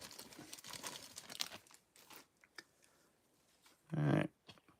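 Quiet crinkling and tearing of the foil wrapper on a 1990 Pro Set football trading card pack, with scattered close rustles and a short, louder rip near the end.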